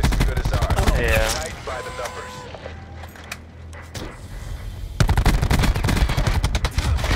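Rapid gunfire bursts from a multiplayer shooter video game, loud and close, with automatic fire stopping and starting and several players talking and shouting over the shots.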